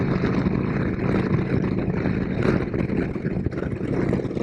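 Harley-Davidson Twin Cam 88 Road King motorcycle cruising at highway speed, its engine drone blended with heavy, steady wind rush, loud and continuous throughout.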